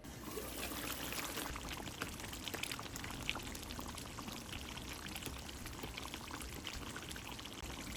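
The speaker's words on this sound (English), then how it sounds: "After 10 minutes, add hot water 2 cups." Hot water poured into a simmering egg kofta curry in a cooking pot, a steady, continuous trickling pour that runs for several seconds at moderate volume with no talking.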